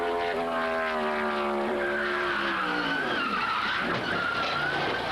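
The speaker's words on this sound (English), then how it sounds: "The squealing noise means they're not touching the track" NASCAR race car tires squealing on the Charlotte track in 1996, a loud sustained screech with sweeping, gliding pitch that runs for about five seconds over constant engine roar.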